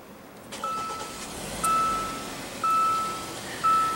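A 2016 Hyundai Santa Fe Sport's 2.4 L four-cylinder engine starts by push button and settles into a steady idle, while a series of electronic chime beeps sound at regular intervals.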